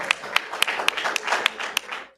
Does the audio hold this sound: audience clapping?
yes